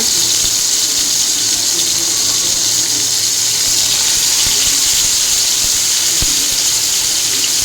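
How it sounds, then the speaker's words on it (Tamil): Marinated kebab pieces fry in generous oil in a pan over a medium flame, giving a loud, steady sizzle that runs unbroken throughout with no talk. "இப்போது நம்ம ஒரு பேனில் எண்ணெய் இந்த மாதிரி தாராளமாக விட்டுட்டு இதை கொஞ்சம் கொஞ்சமாக எடுத்து போட்டு ஃப்ரை பண்ணி எடுத்துடலாங்க"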